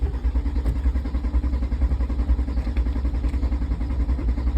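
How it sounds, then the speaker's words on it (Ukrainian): Starter cranking on a 1996 VW T4 4x4 van that refuses to start on a cold morning: a steady, rhythmic mechanical churning repeats evenly throughout, loud and close, with no catch or idle and no talking. "потім тиснемо щеплення, крутимо стартер"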